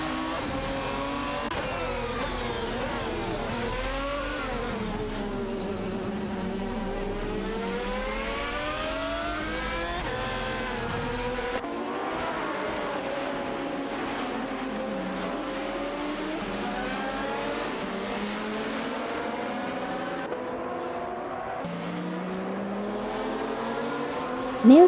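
A Porsche Carrera GTR and other GT1 race cars roar through a racing video game, engines climbing and falling through gear changes in a steady, loud, continuous drone with no talking.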